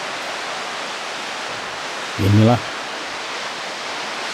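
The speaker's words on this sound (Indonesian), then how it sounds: "deburan ombak dari Pantai Karangbayong ini" Broadband surf roars steadily at Karangbayong beach in Paranggupito, Wonogiri, the rush of ocean waves filling the whole clip while a voice briefly speaks over it near the middle.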